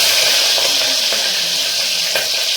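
Green chillies and onions frying in ghee, a loud, close, continuous hiss and crackle with a few faint stirring clicks.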